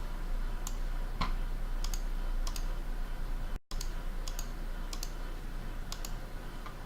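Someone taps in a Naver Pay password to confirm a payment, a series of separate sharp clicks at an irregular pace, close and clear over a quiet steady background hum.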